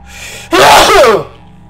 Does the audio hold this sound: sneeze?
yes